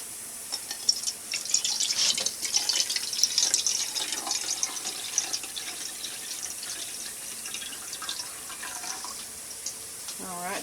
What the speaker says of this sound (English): I am going to measure water up to 3/4 of a cup